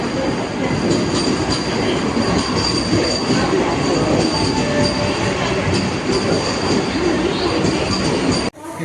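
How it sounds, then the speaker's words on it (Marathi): A Vande Bharat express train roars past close by, a loud, unbroken rush of rattling wheels and metallic squeals that cuts off abruptly at the end. "बापू एक्सप्रेस वंदे भारत वंदे भारत आलेली आहे"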